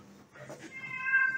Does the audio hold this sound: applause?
no